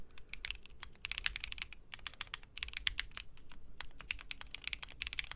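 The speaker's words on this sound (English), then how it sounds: "I'm typing out Emmett Selk's speech from Final Fantasy 14." Rapid typing on a custom StarryFRL mechanical keyboard build, with dense bursts of crisp, close key clacks separated by brief pauses and no talking.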